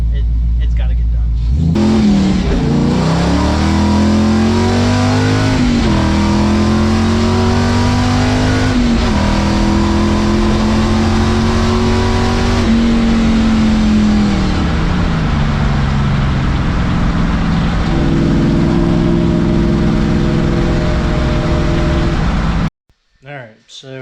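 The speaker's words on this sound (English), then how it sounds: "I'm not sure if you guys heard it, but still that exhaust leak is coming on through" A car with an exhaust manifold leak drives along, its engine droning and rising in pitch through several accelerations, loud and close from inside the cabin, ending abruptly.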